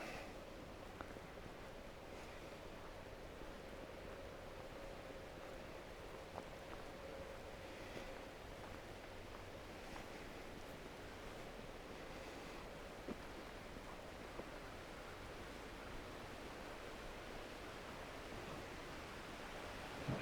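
A small mountain creek near Vail in winter flows with a faint, steady, even rushing that continues unbroken, with no voices.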